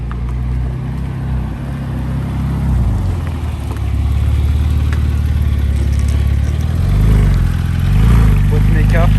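A Porsche 996 Turbo S with ceramic brakes and a manual gearbox runs nearby, a steady low engine drone that swells with a couple of brief revs toward the end, while people talk over it.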